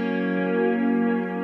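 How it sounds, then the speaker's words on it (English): Electric guitar run through a stereo tape delay with reverb and compression on a TC Electronic Plethora X5 pedal board, sustaining a steady droning chord with smooth repeats that spread the sound out; loud and even throughout, with no talking. "and if I turn this delay on,"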